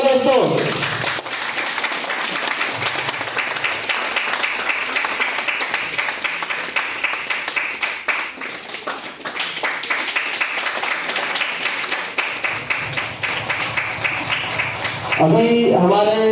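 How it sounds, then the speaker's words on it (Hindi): An audience applauding at a Victous Life Sciences pinning ceremony in Bilaspur, loud sustained clapping filling the room for most of the stretch, with voices breaking in at the start and end. "जोरदार तालियों का दोस्तों।"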